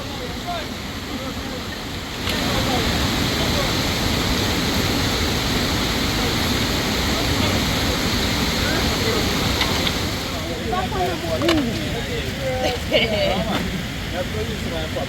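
Steady rain falls outdoors beside a river at a riverside cooking spot, a dense continuous hiss that swells after a couple of seconds and holds loud throughout, with faint voices near the end.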